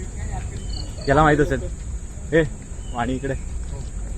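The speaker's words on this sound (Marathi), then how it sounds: "हा आवाज कसला आहे? राजकड्यांचा आहे ना?" Crickets chirping during a daytime trek at Karnala Fort in Maharashtra: a steady, continuous high-pitched trill runs throughout, with people talking over it.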